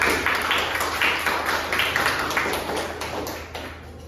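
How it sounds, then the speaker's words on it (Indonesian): Classroom group clapping for a student, a busy steady patter of many hands with slight rhythmic pulses, gradually tapering, over a low steady hum. "Kasih tepuk tangan untuk Fatan"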